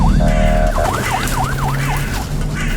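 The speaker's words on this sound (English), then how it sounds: "Sounds like police sirens." Police sirens in a horror video game wail repeatedly in rising-and-falling sweeps over a steady low game hum, loud and continuous throughout.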